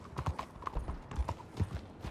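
Horses' hooves clip-clop in a video game bounty mission, several animals trotting in an uneven, overlapping rhythm of close, fairly loud hoof strikes throughout.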